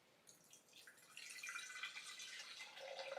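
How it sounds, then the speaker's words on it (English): Juice poured into a container, a soft liquid trickle that builds into a steadier splashing pour, close and quiet, with no voices. "let's go ahead and pour the Huram juice"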